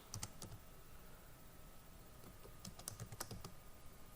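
Quiet typing on a computer keyboard, a few scattered bursts of key clicks with pauses between, faint and close against a low background hiss; no speech.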